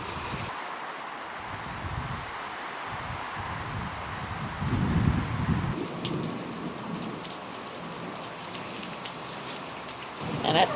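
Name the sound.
rain falling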